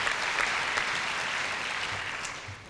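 Sustained audience applause at a 2005 community high school graduation ceremony, a dense steady wash of many hands clapping that holds evenly before easing slightly at the end.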